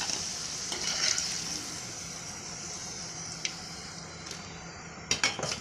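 Potatoes frying in oil, a steady close sizzle that runs throughout, broken by a few metallic clinks and scrapes of a utensil against the pan near the end.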